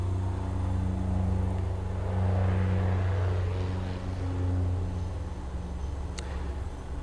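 A Subaru engine, running poorly, revs under throttle with a deep, steady rumble that swells and then eases, heard close and alone without talk.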